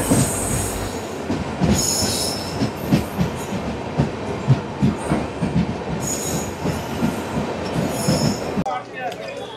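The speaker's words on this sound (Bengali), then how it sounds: "এখানে দাঁড়িয়ে আছে আমাদের ইন্ডিয়ান রেলওয়ের পাওয়ারফুল ডিজেল লোকোমোটিভ WDP-4, যেটা একটা মেমো ট্রেনকে পুল করছে" A passenger train pulled by an Indian Railways WDP-4 diesel locomotive rolls past close by, with a rhythmic clatter of wheels over rail joints, a steady rumble and occasional high metallic squeals.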